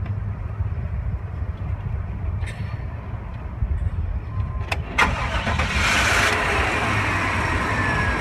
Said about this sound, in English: So we'll go ahead and get the car started.